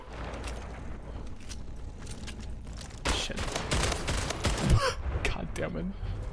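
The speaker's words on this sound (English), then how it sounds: "There's 2 of them shooting at me, and 1 of them killed me with a sniper" Video game gunfire rattles in rapid bursts, loud and close, getting denser partway through, with a player's gasps and groans mixed in among the shots.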